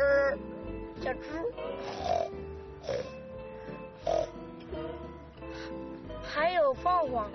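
A voice imitates a pig, giving repeated snorting, grunting oinks in short uneven bursts during a break in working-dog training in the countryside.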